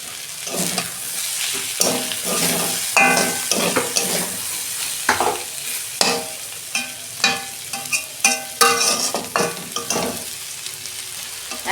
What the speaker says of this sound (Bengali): এই যে আমি 1 চামচ আদা রসুনের পেস্ট দিচ্ছি।